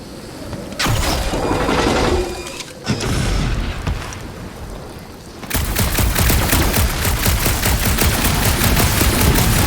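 Gunfire in the video game Marvel's Guardians of the Galaxy: loud, dense bursts of rapid shots with crashing impacts, easing briefly, then a sustained, continuous barrage of fast automatic fire.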